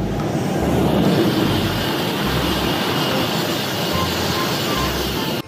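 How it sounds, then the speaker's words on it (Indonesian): A toy high-speed train runs with a loud, continuous whirring rumble that stays steady from start to finish and cuts off abruptly at the very end. "Di sini ada kereta cepat"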